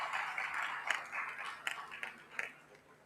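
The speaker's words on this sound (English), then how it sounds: "Please welcome Dr. Radhika Desai with a huge round of applause" Applause from a conference audience after a speaker is welcomed at an anti-imperialist event in Lahore, a steady wash of clapping with a few sharper claps standing out, moderately distant and fading slightly toward the end.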